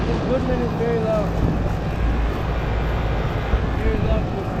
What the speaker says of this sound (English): This Goodman is very loud.